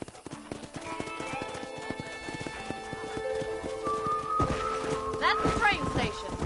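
Horse hooves clip-clop at a steady riding pace in the Red Dead Redemption video game, with a whinny near the end, layered under ongoing talk and background music.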